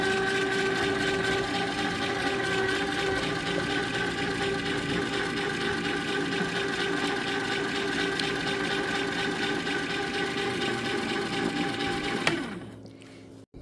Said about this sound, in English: And then I'm going to give it one more churn to get them mixed up.